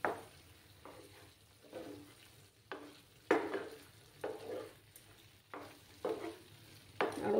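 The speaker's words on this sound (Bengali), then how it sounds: "আরও কিছুক্ষণ এইভাবে নাড়াচাড়া করে নেব" A paneer sandesh mixture is stirred in a pan, with rhythmic scraping strokes roughly once a second over a faint, low background.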